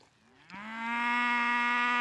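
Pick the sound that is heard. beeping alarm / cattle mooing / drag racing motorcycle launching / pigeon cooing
cattle mooing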